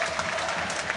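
Football crowd at a Partick Thistle versus Ross County match applauds substituted players leaving the pitch, a dense, steady wash of clapping from a large stand.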